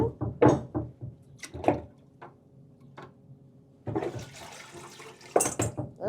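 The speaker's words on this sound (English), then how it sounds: "put it in the water again." A silver piece is lifted from pickle solution and set into water in an 18th-century silversmith's shop, giving close watery splashes and sloshing with brief clinks in two bursts, a quieter gap between them.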